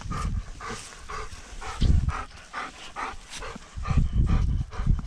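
A dog pants and huffs in a quick, steady rhythm close by, with a few louder breathy snorts and faint whimpers, and no talking.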